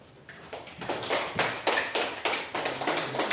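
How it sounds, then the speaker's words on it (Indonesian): A classroom audience applauds a presenting group with rhythmic, evenly spaced claps that build and hold at a moderate level. "Berikan aplaus yang meriah buat kelompok 2."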